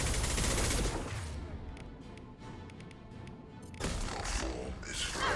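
Rapid gunfire crackles in a Mass Effect Legendary Edition colony-defense battle, a dense, loud stream of shots that eases briefly midway and then swells again, with no voices.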